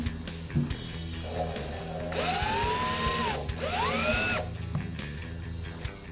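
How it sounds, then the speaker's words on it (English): A power drill whirs steadily, rising into two loud, high-pitched bursts as a pilot bit bites into a Ford Bronco's metal fuel tank, then easing back to a lower hum. "We're going to start off drilling the hole with a pilot bit."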